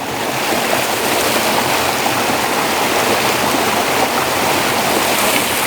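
Creek water rushing steadily in the Tulameen area, a close, loud, even wash of flowing water with no pauses and no voices.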